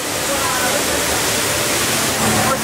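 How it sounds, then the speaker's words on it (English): Large indoor waterfall inside the Cloud Forest conservatory in Singapore, a steady, loud, broadband roar of falling water filling the space throughout, with no pauses. "This is a big waterfall. Indoors, too, nonetheless."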